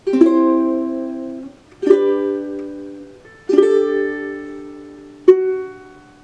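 Four strummed ukulele chords ring out one after another, each left to sustain and fade, the last one short and final.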